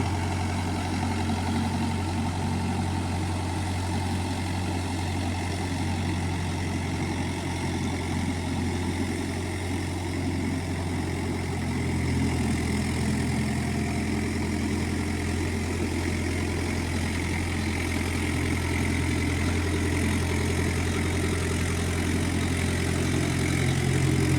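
Mahindra Yuvo Tech Plus 575 4x4 tractor engine running steadily under load while ploughing, a continuous loud low diesel drone with a constant hum throughout and no talk.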